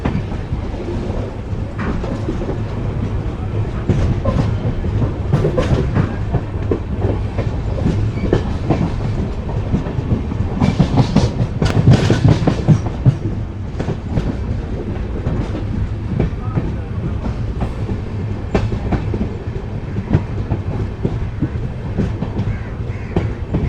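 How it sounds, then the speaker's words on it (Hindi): Inside the Nangal Dam Express, a fast train rolling on rails gives a loud, continuous rumble with repeated clickety-clack wheel beats and a brief surge of rattling midway, heard alone without talk. "प्लेटफॉर्म नंबर 1 पर जाती हुई हमारी ट्रेन"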